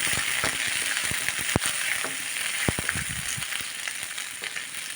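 Onion sizzles steadily in a hot pan for a chammanthi chutney, a close, continuous frying hiss broken by sharp crackles and pops.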